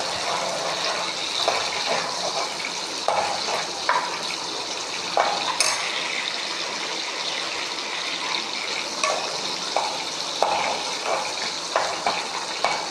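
Small whole onions, fenugreek seeds and curry leaves sautéing in a pan for Tamil onion kuzhambu, a steady soft sizzle with intermittent stirring scrapes and clinks throughout, no talking.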